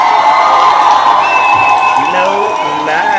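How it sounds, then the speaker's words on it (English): An audience claps and cheers loudly throughout, with whoops and raised voices mixed into the crowd noise, and a voice speaking over it. "let's give her a round of applause"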